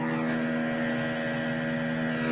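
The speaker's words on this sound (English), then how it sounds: "This is the sound of this plane I was on" Steady cabin drone aboard an Alaska Airlines commercial airliner in flight, a constant low hum with strong tonal bands, moderately loud and unbroken, with no talking.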